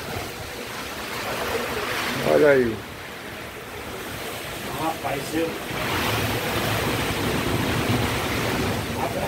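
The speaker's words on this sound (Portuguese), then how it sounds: "Muita ventania aqui, ó." Strong storm wind gusts sweep across open sertão countryside near the town of Sousa, a broad steady roar with rises and falls, under brief talk from a man nearby.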